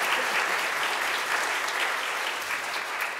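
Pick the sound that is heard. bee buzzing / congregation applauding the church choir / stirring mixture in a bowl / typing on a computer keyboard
congregation applauding the church choir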